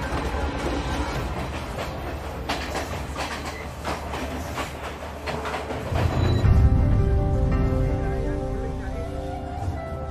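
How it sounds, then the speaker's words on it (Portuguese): Passenger train travelling through Sri Lanka, heard from inside with steady wheel clatter and rumble, a rhythmic clickety-clack, and a louder surge of rolling noise in the second half under faint background voices. "Embarcamos no trem para viajar até o coração do Sri Lanka."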